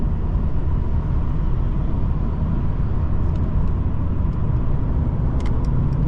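Inside a 2019 Mercedes-Benz CLS450 4MATIC with hybrid assist, a loud, steady drone of engine and road noise fills the cabin while driving, with a few faint ticks near the end.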